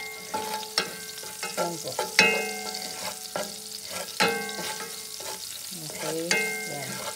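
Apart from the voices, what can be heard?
garlic frying in a pan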